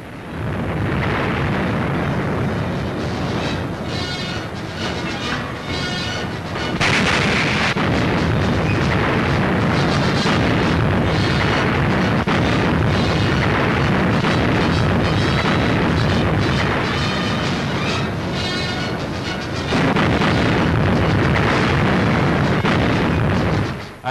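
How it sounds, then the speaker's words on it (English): Naval artillery bombards the coast from the sea during a desert campaign, heard as a loud, continuous, dense rumble of booms and blasts with no pauses or voices. "A flank attack from the sea with naval artillery."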